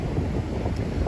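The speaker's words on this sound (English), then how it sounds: "It's a crazy windy night." Strong wind roars across the microphone on a night in Midtown Manhattan, a steady, loud, low rumble with no talk over it.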